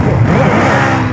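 A vehicle engine catches and revs hard in a short, loud, dense burst of mid-pitched roar, with no voices over it.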